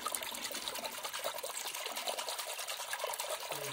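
Water trickles and splashes steadily as it is poured over freshly line-caught fish at a creek in Konkan, a continuous close pouring sound with no talk.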